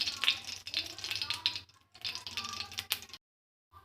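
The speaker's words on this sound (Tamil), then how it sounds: "கடுகு நல்லா பொரிஞ்சு வரணும் மக்களே" Mustard seeds splutter in hot oil for thakkali thokku, a Tamil tomato relish, in a home kitchen, with rapid crackling pops that come in bursts, quiet between them and fading out near the end.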